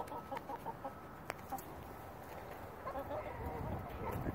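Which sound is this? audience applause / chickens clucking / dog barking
chickens clucking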